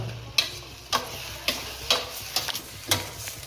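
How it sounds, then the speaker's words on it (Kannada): Beetroot halwa with ghee and cashews is stirred in a pan, giving about seven close, evenly spaced scraping strokes roughly every half second, with no voices. "ಹಾಕಿ ನೀಟಾಗಿ ಮಿಕ್ಸ್ ಮಾಡ್ಕೊಳ್ಳೋಣ"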